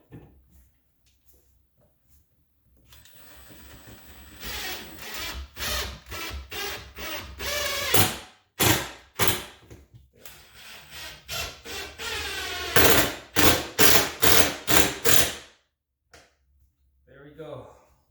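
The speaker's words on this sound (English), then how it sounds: "So we'll drive some right here first." Screws are driven into wood to mount garage shelves, the power driver coming in repeated loud bursts that buzz and stop, separated by short pauses, with a handling rustle near the end.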